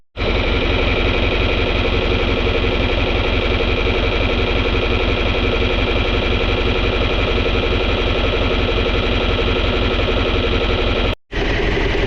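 A tractor engine idles steadily while the machine is washed, a loud, even diesel drone with a constant throb that runs almost unbroken, cutting out for a split second near the end before resuming.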